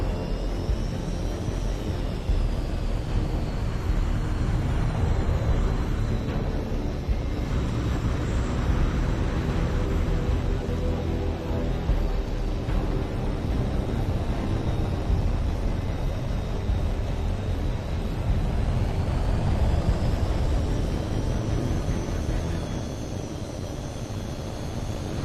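A jet aircraft in Hawx 2 gives off a loud, continuous engine roar with a whining tone that slowly rises and falls, steady for the whole stretch before easing off slightly at the end.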